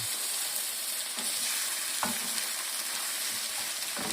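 Chopped onion fries in vegetable oil in a home kitchen, cooking for stuffed cabbage rolls. A steady close sizzle runs throughout, broken by occasional scraping stir clicks from the pan.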